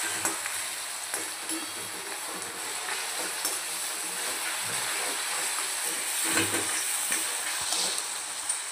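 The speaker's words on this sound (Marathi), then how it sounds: "कांदा छान आपल्याला गोल्डन होईपर्यंत असा फ्राय करून घ्यायचा आहे।" Chopped onion frying in a pan until golden, a steady close sizzle and hiss with faint stirring scrapes running through, no voices.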